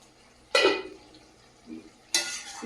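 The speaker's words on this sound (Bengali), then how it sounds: "ঢাকনাটা খুলে দেখে নেব" A lid lifted off a cooking pot of simmering potatoes, a sharp metallic clatter followed later by a second clink, close up over a quiet kitchen background.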